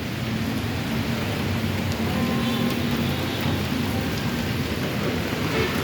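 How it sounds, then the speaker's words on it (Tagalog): Steady rain falling outdoors during a morning walk near home, a dense continuous hiss with faint low rumble underneath and no speech over it. "so umuulan talaga"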